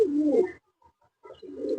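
A Sialkoti pigeon coos in two close, fairly loud bursts separated by a short silence, each a throaty rolling call with no speech over it.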